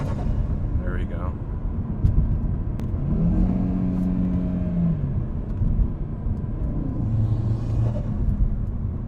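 A 440 hp Audi RS3 with an intake mod pulls at low load in fourth gear near 3,000 rpm, a deep engine rumble rising and falling as boost builds, heard from inside the car with a voice talking over it.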